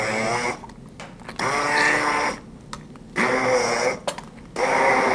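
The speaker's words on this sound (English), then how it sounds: "I like to use my handy dandy immersion blender." An immersion blender mashing cooked lentils runs in three loud bursts, its motor whining up in pitch at each start, with short quiet pauses between the pulses.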